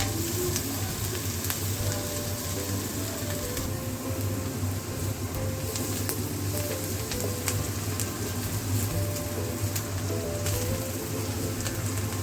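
Sliced onions with a pinch of salt sautéing in a pan while turning brownish, a continuous dense sizzle and crackle with a low steady hum underneath and occasional scraping stirs, no voices.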